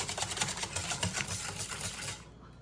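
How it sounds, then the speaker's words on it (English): Cold milk being whisked in a bowl for a Japanese cheesecake, a steady, fast rhythmic clatter of whisk against the bowl that continues evenly, then stops abruptly near the end. "You're just gonna add in your cold milk and whisk until it's as smooth as possible."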